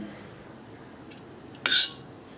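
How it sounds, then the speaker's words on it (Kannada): A single sharp metallic clink of a spoon against a bowl as brinjal curry is served, rising briefly out of a quiet kitchen background. "ಇವಾಗ ಅದನ್ನು ಬೋಲಿಗೆ ಸರ್ವ್ ಮಾಡ್ಕೊಳ್ಳೋಣ"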